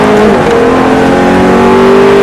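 A car engine strains hard and climbs steadily in pitch under full throttle on a driving course, loud and continuous with a whining tone.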